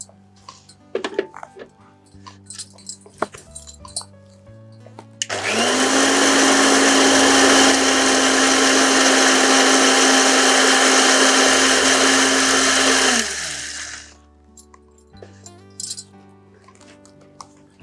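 An electric mixer grinder blends a paste for paneer kofta, a loud steady whir running about eight seconds alone, with kitchen clatter before and after.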